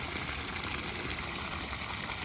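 Irrigation water runs steadily into flower plants and trees on a farm, a continuous, even rush and gurgle at low level with no speech.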